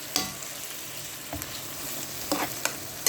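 Onion and garlic fry in oil for Egyptian bessara, a soft steady sizzle broken by a few scraping stirs of a spoon against the pot, with no talk.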